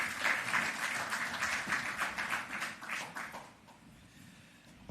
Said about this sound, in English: So now that you've been practicing the applause, please welcome Dr. Wayne Robinson.